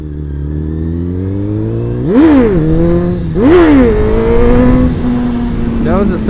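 A motorcycle accelerates hard in second gear during wheelie practice, its engine note rising in two strong revving pulls close to the rider, then settling to a steady drone.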